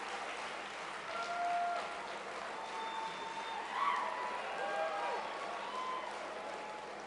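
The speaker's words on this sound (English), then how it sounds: "I hope the cameras are getting all this applause because it feels good up here" Audience at a political conference in Providence, Rhode Island applauding steadily, a dense wash of clapping with occasional whoops, moderately distant and sustained throughout.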